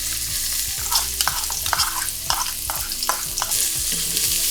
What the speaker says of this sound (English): we wanna saute those vegetables and get that flavor into the rice from early